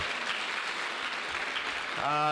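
Audience applause at an evening talk on natural health, a steady wash of clapping that fills the clip, with a voice rising at the end.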